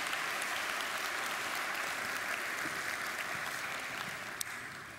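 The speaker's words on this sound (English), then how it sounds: "Will you give them applause?" An audience applauds continuously in a group setting, a steady dense wash of clapping that stays loud and even before easing slightly toward the end.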